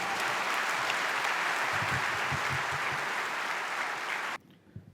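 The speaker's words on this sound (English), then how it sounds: "a big round of applause for him" Sustained applause from a convocation audience following a speech, dense and steady for about four seconds before cutting off abruptly, with a few scattered claps trailing afterwards.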